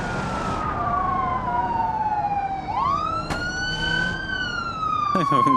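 Video game police sirens wail and sweep up and down continuously, loud and close, with an engine rumbling underneath and a brief sharp crash near the end.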